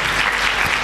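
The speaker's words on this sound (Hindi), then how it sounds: "तालियां बजाएं" A congregation at a church sermon breaks into brief, loud, dense applause, a continuous wash of many hands clapping together.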